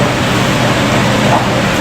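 A noisy electric fan running indoors, a steady broadband whoosh that stays even and fairly loud throughout, with no clear voice over it.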